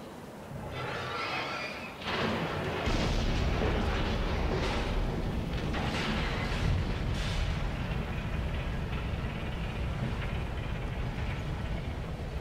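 An oil rig is destroyed in the distance in the Halo 5 video game, with loud, sustained explosive rumbling and repeated booming bursts after a brief quieter opening.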